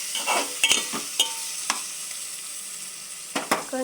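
Onions fry in a pan for pepper rasam, a soft continuous sizzle punctuated by several sharp scraping stirs from a utensil, close and without speech.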